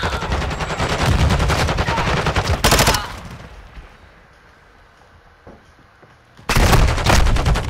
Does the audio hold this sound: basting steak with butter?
no